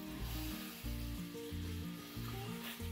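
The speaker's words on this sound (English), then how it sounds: "we're going to let that bacon cook for a few minutes" Bacon sizzling and frying in a pan on a home stove while an Easter dinner is cooked, a steady close crackle running through the whole stretch with no talking.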